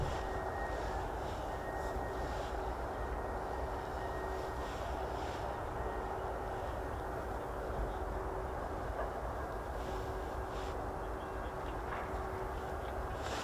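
A Eurofighter Typhoon jet takes off from RAF Coningsby as a steady, distant engine roar, broad and even, that holds without pause through the whole stretch.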